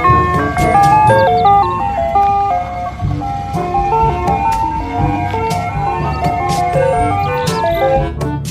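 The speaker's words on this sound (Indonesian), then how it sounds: "Yang ini ada mobil es krim." A toy ice cream truck plays its bright electronic jingle, a steady looping melody of short beeping notes, loud and close, with occasional clicks over it.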